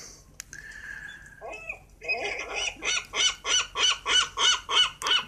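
Birds from the horror sequel The Birds II: Land's End let out a rapid run of loud, rhythmic honking squawks, about nine evenly spaced calls in a row after a few scattered cries, close and unaccompanied by talk.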